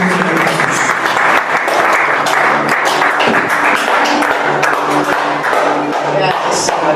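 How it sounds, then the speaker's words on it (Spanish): A church congregation applauds loudly and continuously, dense clapping filling the space while voices mingle underneath. "aplausos para el Señor"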